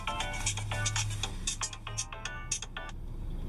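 A mobile phone ringtone plays in a busy city setting, a repeating series of bright, tinkling notes in short bursts over a steady low hum of traffic and street noise, with no talking.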